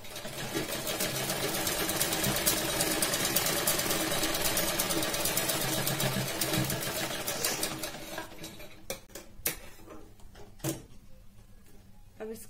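Electric sewing machine stitching seams on a blouse: a loud, steady whirring run of rapid needle strokes for about eight seconds, then stopping, followed by scattered quieter clicks and fabric handling.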